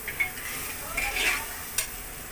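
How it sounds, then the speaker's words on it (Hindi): Spoon stirring tadka daal in a hot pan, a steady close sizzle with a few scraping strokes and brief bright clinks, no talking. "ये मैं इसको अच्छे से चला दूँगी"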